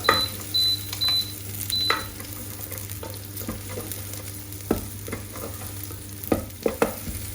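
Onions, ginger and garlic fry and get stirred in the pot of a Pressure King Pro electric pressure cooker for chickpea and spinach curry: steady close sizzle with scraping utensil strokes and occasional sharp clicks, no voices.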